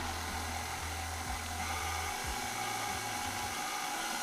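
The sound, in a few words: electric mixer mixing sweet potato pound cake batter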